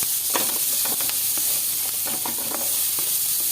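Onions with turmeric sizzling in a pan as they are sautéed, a steady frying hiss broken by repeated scraping and stirring strokes, close and moderately loud.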